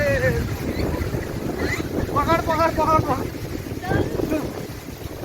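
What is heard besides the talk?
strong wind in a storm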